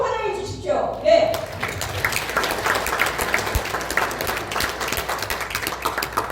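An audience at a Pegabank seminar in Gyeongju breaks into loud, sustained applause welcoming a company representative to the stage, steady clapping filling the room after a brief voice at the start.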